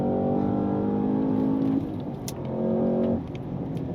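Engine whine from a 2025 Cadillac CT5-V Blackwing driven on a track, a steady tonal drone that rises and holds, then drops back twice as the car shifts, heard at moderate distance without talk.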